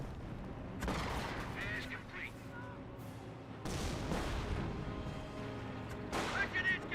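Muffled booms of mortar fire in the World War II strategy game Company of Heroes, a few heavy blasts spaced seconds apart over a constant low rumble of battle ambience, moderately distant.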